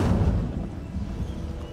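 The Incendio fire spell is cast in Hogwarts Legacy with a deep, rumbling fiery burst that roars loudly at first, then churns on as a low, crackling boom for a second or two.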